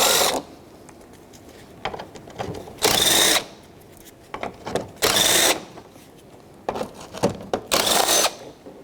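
Bursts of a power driver running a 10mm socket to remove the grille mounting bolts on a 2006-2012 Toyota RAV4, several loud whirring spins separated by quieter handling clatter, close up with no talk.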